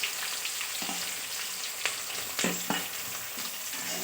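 Onions and curry leaves sizzle and fry steadily in hot oil, with a few sharp crackles and stirring scrapes, close up.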